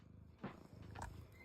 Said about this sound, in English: It's a Korean cat.